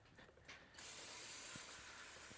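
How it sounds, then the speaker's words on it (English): Short pressurized burst of brake cleaner sprayed onto a BMW N55 engine, a sudden loud aerosol hiss starting partway in and holding steady, with faint clicks beneath. "I'm just gonna hit it real quick with the brake clean"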